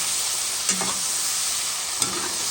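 Pork and mushrooms stirred in a hot pan, a steady broadband sizzle with two brief scraping stirs of the utensil, close and alone without speech.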